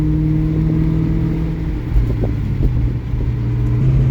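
Restored 1999 Cobra car driving and shifting into third gear, a loud, close, steady engine drone that dips briefly at the shift and then pulls on smoothly, with no voices.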